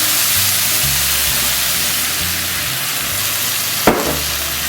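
Chicken sizzling in a pan for a spicy pepper ginger dish as homemade ginger syrup goes in, a loud steady frying hiss with a sharp splash-like burst near the end.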